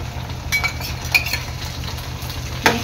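Prawns chilli with green chilli sauce being stirred in a frying pan, a soft steady sizzle broken by several light scrapes and clinks of a spoon against the pan, close and alone.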